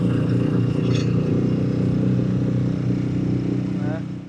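Outboard motor on a small inflatable boat running offshore, a steady mid-pitched droning engine with a continuous throb, close and loud, fading slightly at the end.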